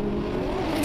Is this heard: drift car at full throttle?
yes